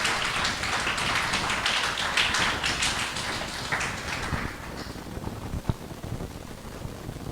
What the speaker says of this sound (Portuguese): Vamos dar uma salva de palmas para as mulheres